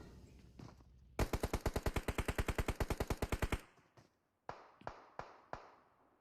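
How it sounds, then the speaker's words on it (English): A rapid automatic burst in the PUBG Mobile battle royale shooter, about twenty evenly spaced loud shots over a couple of seconds, followed after a brief pause by four or five single shots, all fairly close. "Let's shoot some bullets."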